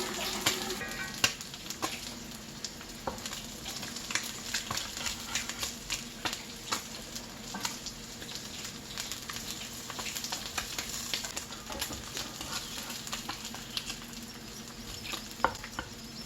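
Spam and potatoes browning in a frying pan give a steady, close sizzle with light crackles throughout, with dish-washing clatter faintly in the background.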